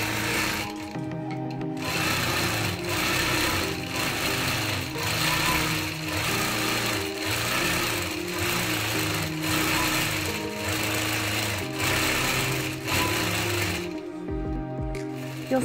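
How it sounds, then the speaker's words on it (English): Sewing machine running steadily while stitching straight-line quilting filler with a ruler, a continuous rhythmic mechanical whir and needle patter that stops briefly near the start and again near the end. "I use my 4-in-1 machine quilting ruler to stitch this fun back and forth straight line filler"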